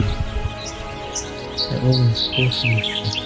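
Sharp, high chirping falcon calls repeat in quick bursts while someone talks nearby, in the Surkhan State Nature Reserve, Uzbekistan.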